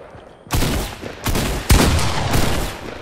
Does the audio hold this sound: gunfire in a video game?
yes